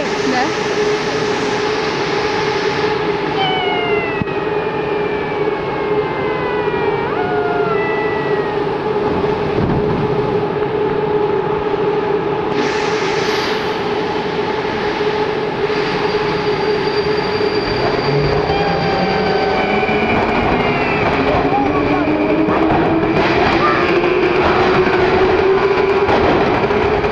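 A Baltiets train on the Saint Petersburg metro runs loud and close, with steady rumble, rising electric motor whine and wheel squeal throughout, under faint voices.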